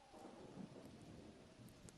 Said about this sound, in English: I guess just a cutscene of rain on the ocean. And some thunder.